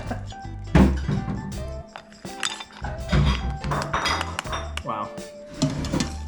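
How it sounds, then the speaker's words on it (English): Cioppino is ladled into bowls with repeated clinks and thunks of a ladle against dishes, alongside clattering kitchenware and some quiet talk throughout. "I'll also ladle this delicious stuff into these bowls here"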